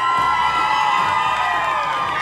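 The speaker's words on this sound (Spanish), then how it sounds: "Grito para Cupido." A TV game show studio audience on a price-guessing show shouts and cheers loudly in one sustained, dense roar of mixed voices, including high children's or women's shrieks, with no single speaker standing out.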